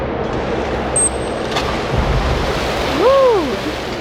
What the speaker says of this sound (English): that loud splash is one of the ways that dolphins communicate over far distances